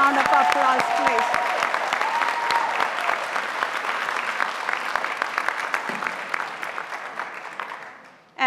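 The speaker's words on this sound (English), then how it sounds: "Let's give them a round of applause, please." Sustained loud applause from a large audience at a high school graduation ceremony, steady clapping that slowly thins out near the end.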